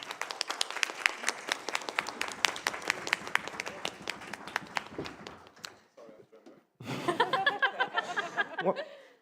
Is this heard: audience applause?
yes